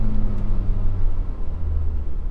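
A Ford Bronco with aftermarket exhaust, blow-off valve and intake rumbles close by, a steady low engine drone with a deep tone that shifts slightly but never rises into a clear rev.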